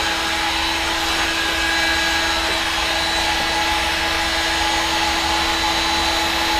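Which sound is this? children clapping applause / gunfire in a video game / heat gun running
heat gun running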